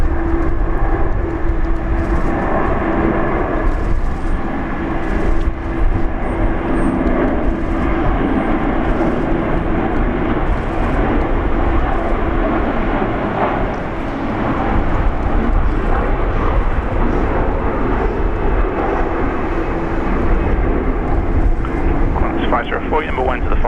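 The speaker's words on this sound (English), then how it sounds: "Batik Air, butter machine taking off." A Batik Air airliner takes off at Brisbane Airport, its loud, broad jet roar holding steady throughout with people talking over it.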